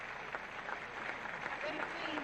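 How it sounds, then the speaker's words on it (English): Applause from the crowd in the stadium at the Westside Tennis Club, Forest Hills, during a women's tennis match: faint, steady clapping from a distance. "she hears some welcome applause because this crowd in the stadium at the Westside Tennis Club has been all for Evert"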